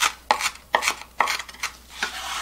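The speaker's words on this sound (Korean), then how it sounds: "이렇게 약간 좀 굵직하게 썰어두겠습니다." A knife chops roughly through chili peppers on a cutting board in a home kitchen, five or six sharp, close strokes at an uneven pace with no talking.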